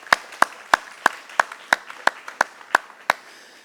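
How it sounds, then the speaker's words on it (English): Sparse, evenly spaced claps ring out about three per second, a single pair of hands applauding up close for parents and guardians at a ceremony, sharp and distinct with little crowd behind. "give a big round of applause to parents and guardians"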